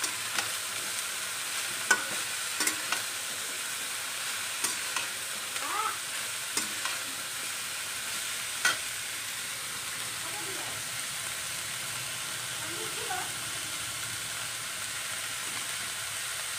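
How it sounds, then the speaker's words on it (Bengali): Cabbage and green peas stir-fry in a wobbly kadai with turmeric and salt, a steady close sizzle broken by scattered clicks and scrapes of the spatula against the pan, with no talk. "এই কড়াইটা না বড় নড়বড় করে"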